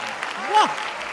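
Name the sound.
audience applause at a poetry gathering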